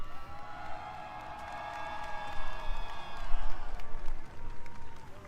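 A crowd at an esports watch party cheers, whoops and claps steadily through the moment, a dense roar of voices and applause that swells slightly in the middle.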